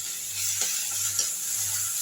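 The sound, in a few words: curry leaves sizzling in oil with onion and garlic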